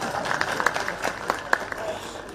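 Applause from an audience of women at an outdoor public rally in Dalhousie, a steady patter of clapping lasting a couple of seconds with a voice faintly audible beneath it.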